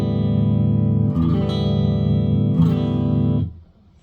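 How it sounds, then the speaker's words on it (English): A clean electric guitar through a Vox AD50VT amp on its boutique clean model, based on a Dumble clean, rings out in sustained chords, changing twice, with a warm tone and light reverb, then fades to quiet. "this is going to be the boutique clean, basically your Dumble Super 100 clean."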